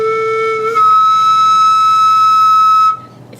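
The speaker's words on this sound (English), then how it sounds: "And that's how you make your sound on the flute." A breathy flute tone made by blowing across the tone hole, starting on a lower note, then jumping to a steady higher pitch that holds for about two seconds before stopping, close and alone.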